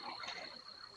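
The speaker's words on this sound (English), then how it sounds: "I hear crickets." Crickets in an open garage give a faint, continuous high chirring over a dense, noisy background for about a second.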